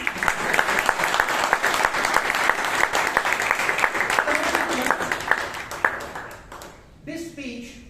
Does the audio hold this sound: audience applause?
yes